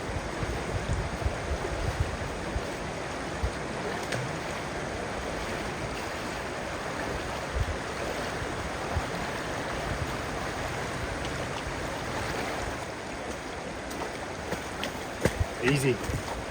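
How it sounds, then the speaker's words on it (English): The Louisa River at a wide rope crossing on Tasmania's remote South Coast Track rushes steadily, a broad continuous wash of flowing water that stays fairly loud and even throughout, with light wind. "this is by far the widest river crossing I've had so far"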